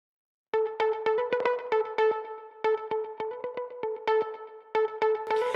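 Plucked electric guitar lead with light clipping saturation preamp, in a nostalgic indie pop style: a quick run of bright, sustained picked notes in a steady rhythm, close and fairly loud, with no voices.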